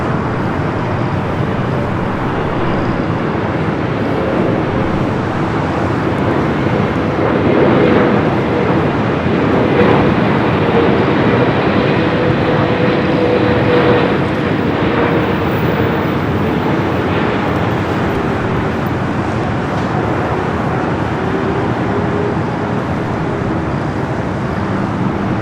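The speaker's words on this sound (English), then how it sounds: "EVA Flight 12 coming in from Taipei, 777-300ER, 18-year-old 777." An 18-year-old EVA Air Boeing 777-300ER arriving at LAX from Taipei, a loud, steady broadband jet roar that swells slightly midway and holds without a break.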